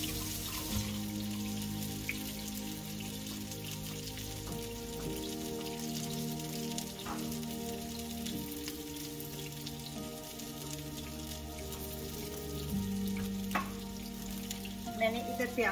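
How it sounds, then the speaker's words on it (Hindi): Potatoes and aubergine fry in a pan with a steady, soft sizzle running throughout, joined by light stirring clatter and a brief louder burst near the end, with no talk. "तो जब तक ये फ्राई हो रहे हैं"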